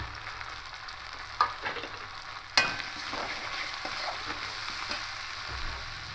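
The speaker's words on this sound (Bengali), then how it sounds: "এখানে আছে হলুদ গুঁড়ো, লঙ্কা গুঁড়ো, ধনিয়া গুঁড়ো আর জিরে গুঁড়ো, এটা দিয়ে দেবো।" Ground turmeric, chili, coriander and cumin go into a hot frying pan, bringing a steady close sizzle broken by a couple of sharp clanks and scraping stirs.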